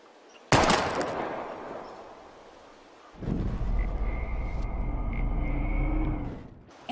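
A single loud gunshot at bottles in the video game Life is Strange cracks out and fades, then a long rumbling roar with a faint tonal hum follows.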